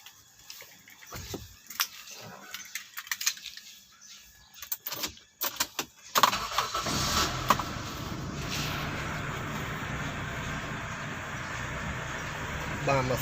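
A 1997 Honda CR-V engine starts after several seconds of scattered clicks and knocks, then settles into a steady, even idle hum that runs to the end.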